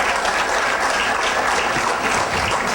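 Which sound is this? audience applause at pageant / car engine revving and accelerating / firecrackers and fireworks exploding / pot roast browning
audience applause at pageant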